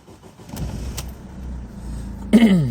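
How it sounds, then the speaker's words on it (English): A SsangYong Kyron, a used car in Korea, cranks and its engine starts near the end after a stretch of low idle-like rumble, a brief loud catch followed by a settling whine. "Let's start the engine."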